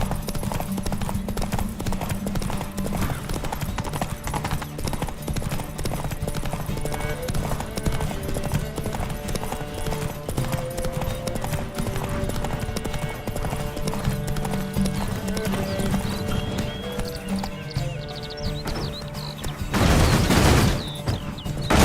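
Hooves clip-clop rapidly and continuously as a horse is ridden at full gallop in The Witcher 3, mixed with game music. A louder burst of noise comes near the end.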